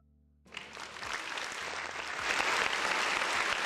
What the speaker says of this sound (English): I said, round of applause for the people in the chat.